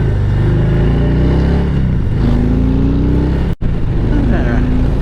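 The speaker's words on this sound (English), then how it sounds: "I better behave on my new motor, but a little blast didn't hurt nothing" Harley-Davidson Heritage motorcycle engine, loud and close, with a steady low rumble that rises in pitch as it accelerates, briefly cut out near the end before resuming.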